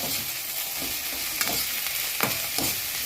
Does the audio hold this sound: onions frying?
yes